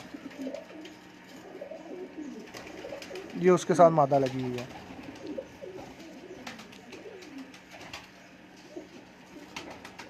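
Batera pigeons, a male with its female, cooing in a short burst of a few throaty calls amid background noise, with someone talking before and after.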